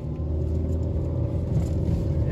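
Steady low engine rumble from a 2015 Nissan Rogue with a CVT as it's given gas from a dead stop, a constant close drone without sharp revving peaks.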